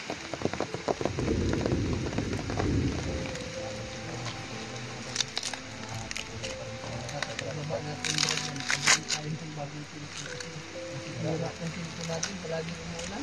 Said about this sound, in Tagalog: Palagi umuulan.